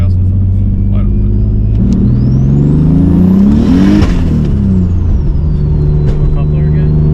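A turbocharged BMW E46 accelerates hard at wide open throttle, engine note climbing steadily with a rising turbo whine and a brief dip near the shift, loud and close inside the car.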